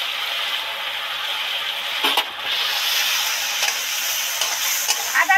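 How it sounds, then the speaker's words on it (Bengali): Vegetables frying with ginger paste in a pan, a steady sizzling hiss with a few brief stirring scrapes, close and fairly loud, with no talking. "আদা দিয়ে তো ভালো করে ভেজে নিলাম নেড়ে চেড়ে"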